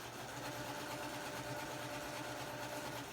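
A sewing machine stitches binding onto a Thanksgiving placemat, a steady, even mechanical whir running without pause at low, faint volume.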